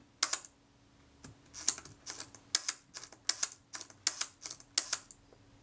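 A Retina II type 011 camera's shutter fires at set speeds around 1 second to 1/25 second, sharp mechanical clicks close by, some single and some paired, spaced unevenly with short gaps, over a quiet background.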